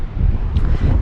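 Strong wind gusts buffet a sailboat lying at anchor in a bay, with gusts up to 66 knots: a steady, close, roaring rush of air with surging swells across the whole second, and no voices.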